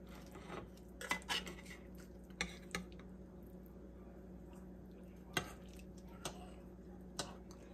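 Knife and spoon clinking against a dish while making a taco bake with croissants, several sharp metallic taps scattered irregularly over a quiet kitchen background.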